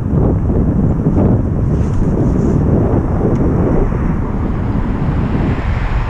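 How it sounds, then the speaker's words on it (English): Cold November wind blowing hard across the microphone outdoors while riding a Onewheel Pint electric board on wet ground, a loud, constant roar throughout with no speech. "that wind feels like it's freezing"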